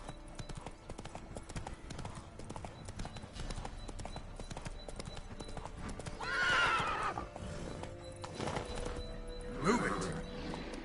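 Hoofbeats of Roach, a horse in The Witcher III, clip-clop steadily throughout at moderate distance, with a couple of whinnies breaking in near the middle and end, over faint background ambience.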